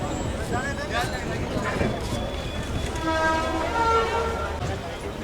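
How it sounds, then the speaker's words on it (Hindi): The 14206 Ayodhya Cantt Express pulls out of Delhi Junction in the evening with a steady rolling rumble and drawn-out horn tones, while someone talks over it close by. "निकल चुके हैं अपनी Ayodhya cantt express on time Delhi junction से भी।"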